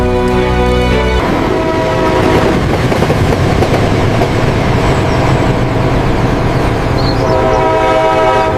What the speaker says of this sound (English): Train 42 is clear for departure.